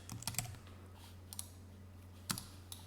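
Sparse keystrokes on a computer keyboard, a short cluster of clicks at the start and a few isolated taps later, close and fairly quiet over a low steady hum.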